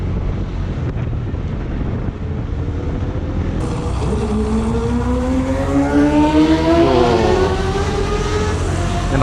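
A motorcycle engine climbs in pitch as it revs up, the rising tones sweeping upward over heavy wind rumble against the microphone.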